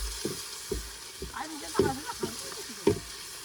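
Tomatoes frying in masala in an outdoor village cooking pot for chicken gravy, with sizzling and repeated scraping stir strokes at an irregular rhythm, close by, while people talk now and then.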